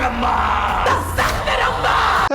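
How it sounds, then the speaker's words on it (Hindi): Two characters in a film scene shout at each other in a room, loud sustained yelling and bellowing voices overlapping throughout, with a brief cutoff near the end. "देन कमरे में दोनों चिल्लाने लग गए"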